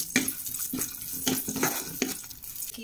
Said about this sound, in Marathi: यामध्ये मी थोडेसे ड्रायफ्रूट्स छान असे परतून घेते